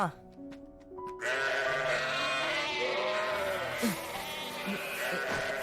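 Goats or sheep bleat in a Tamil-dubbed episode of the Vinland Saga anime, wavering calls heard over a dense bed of voices, music and farmyard ambience.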